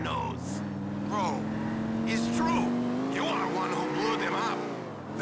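A Dodge Charger replica car in GTA runs with a steady engine drone whose pitch rises slowly, heard under continuous speech and game dialogue.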